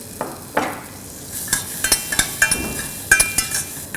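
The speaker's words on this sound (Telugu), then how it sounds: "గిన్నె వేడెక్కాక ఇందులో కొంచెం బటర్ వేస్తున్నాను లైట్గా ఇందులో మన కార్న్ మొక్కజొన్న గింజలు" Corn kernels frying in melted butter in a hot pot, with soft sizzling and a run of scraping stirs and light metallic clinks from a utensil against the pot, close and fairly quiet.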